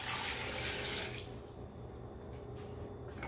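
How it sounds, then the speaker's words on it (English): Tap water runs steadily into a pot of scrubbed, rinsed clams, a dense rushing splash that thins into a softer, lower trickle partway through, close and fairly quiet. "add 3 cups of water."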